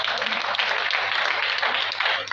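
Church congregation applauding during a French-language sermon, a dense, steady wash of clapping filling the whole moment with a low hum underneath.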